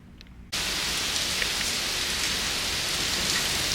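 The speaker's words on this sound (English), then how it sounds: "is actively raining now." Steady, dense rain pours onto an open cruise ship deck at sea aboard the Disney Wish, starting abruptly after a brief quiet moment and continuing as a loud, even hiss without any voices.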